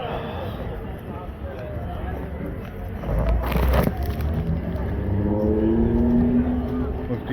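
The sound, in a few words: engine of a '55 Chevy Bel Air with LS1 swap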